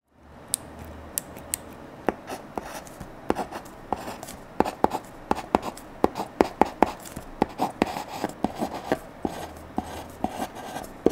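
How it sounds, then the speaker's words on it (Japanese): A PLOTTER 2002 luxury mechanical pencil writes on paper, giving a close, dry run of quick scratchy taps and strokes in an irregular rhythm that grows busier as the writing goes on. "では書いていきましょう"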